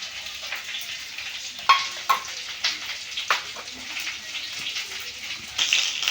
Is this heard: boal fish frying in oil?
yes